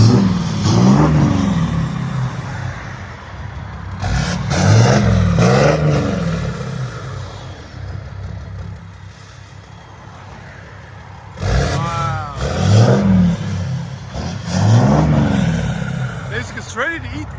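A straight-piped 2017 RAM 2500 with a 6.7L Cummins turbo diesel revs in repeated loud bursts that rise and fall back to a rough idle, with someone talking between the revs.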